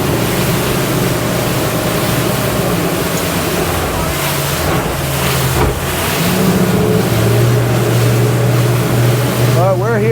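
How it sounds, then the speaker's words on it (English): A small motorboat runs out on open water near the Ocean Reef Club during a Bahamas crossing, its engine a steady close drone blended with wind rush and wave wash for the whole stretch. "A nice little boat coming out here."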